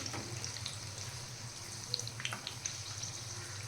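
Dal vadas fry in hot oil, a steady low bubbling hiss with a few soft spoon clinks and scrapes as they are flipped.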